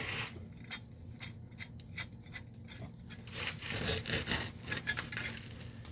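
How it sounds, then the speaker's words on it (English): Wrench turning out the nut on an old boiler thermocouple, close gritty rubbing and scraping strokes repeating over a steady hum. "What I'm doing is I'm turning this nut right here out."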